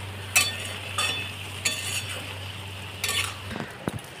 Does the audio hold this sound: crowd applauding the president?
no